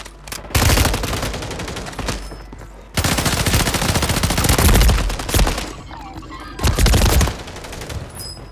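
Heavy gunfire erupts in three long bursts of rapid, sustained shooting from players in a first-person video game battle, loud and dense, separated by brief quieter gaps.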